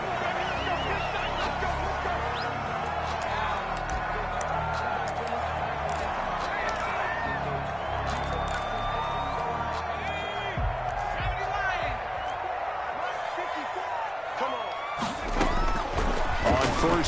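Stadium crowd roaring in an NFL video game, Giants vs Eagles, a dense continuous wall of cheering and whooping with a commentator talking over it throughout.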